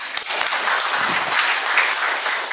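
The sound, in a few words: audience applause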